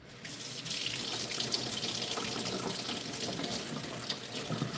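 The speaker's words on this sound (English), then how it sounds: "I guess I'll put cold water on that." Cold water running from a kitchen tap into a sink, a steady close hiss and splash that starts abruptly and continues at an even level throughout.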